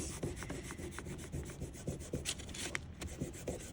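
Pastels rubbed hard across paper, a steady scratchy friction with repeated short strokes, close and fairly quiet with no talking.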